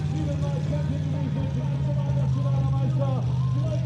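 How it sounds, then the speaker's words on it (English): The big Hemi engine of the Sledgehammer pulling tractor, at a European championship tractor pull in Edewecht, gives a loud, steady, deep roar, with a commentator talking over it throughout. "And we fire the big Hemi into life."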